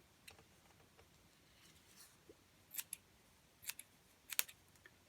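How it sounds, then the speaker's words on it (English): Small fussy-cut scissors snipping paper for a journal, a few quiet, crisp snips in scattered short bursts, close up in a quiet room. "I'm using my fussy cut scissors to do this."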